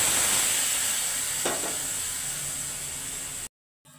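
Mustard water poured into a hot frying pan of okra, potato and small fish, giving a steady close sizzle and hiss with a brief splash, then cutting off abruptly.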